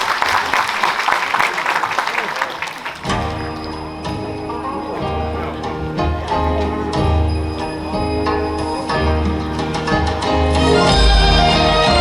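At a Korean governor's book launch event, an audience applauds with dense clapping for about three seconds, then music starts and plays on with faint claps mixed in.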